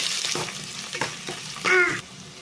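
Oil sizzles and crackles in a pan as chopped onions and green chilies are dropped in and stirred, with a brief metallic scrape near the end.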